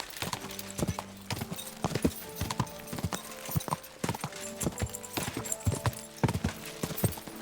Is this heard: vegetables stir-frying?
no